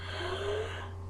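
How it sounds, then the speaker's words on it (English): A person seated beside a laptop lets out a single drawn-out, voiced yawn, close and fairly quiet, fading out toward the end. "let me yawn again"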